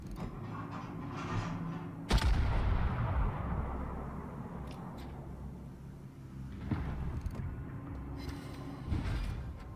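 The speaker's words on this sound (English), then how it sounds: "I may as well wait to fire the full salvo." A full naval gun salvo in World of Warships booms out as a heavy blast near the start. Rumbling engine and sea ambience follow, with a second, softer thump later.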